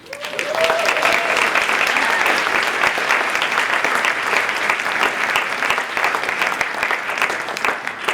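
Audience at an MLK 2020 community event applauding student art contest finalists and their teacher, steady sustained clapping from a crowd throughout, with a brief voice near the start.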